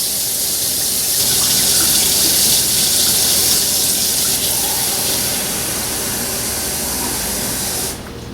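Warm water pours steadily into a bath, a loud continuous rushing and splashing from a nearby tap that holds for several seconds before easing off at the end.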